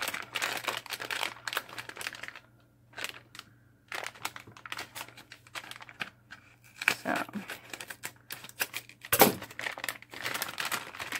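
Scissors snip and cut into plastic packaging around a block of flower clay, with crinkling and tearing in irregular bursts separated by quiet pauses, close up and fairly soft.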